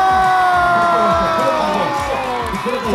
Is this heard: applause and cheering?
yes